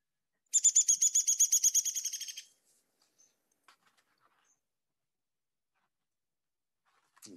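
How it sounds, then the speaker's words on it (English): A downy woodpecker gives a single rapid descending whinny, a run of about a dozen sharp high notes lasting two seconds, followed by near silence with a few faint ticks. "Here's the downy woodpecker first"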